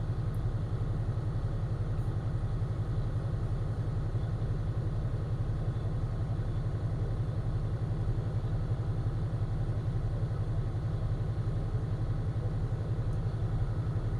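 A truck engine runs at steady, slightly raised revs to build up air pressure. The even, rumbling mid-frequency drone carries on unbroken and fairly loud, with no talk over it.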